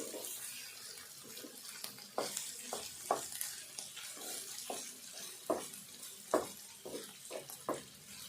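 Cauliflower curry bubbling and simmering in a pan makes a soft, steady sizzle with irregular wet pops and stirring clinks, fairly quiet and close, with no talking.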